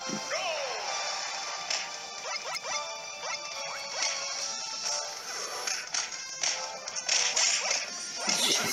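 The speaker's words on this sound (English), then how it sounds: "Sounds like I'm punching him." Rapid punching hits and smashes from Super Smash Bros on the 3DS, a dense run of sharp whacks and swishes over game music and effects, loud and close throughout.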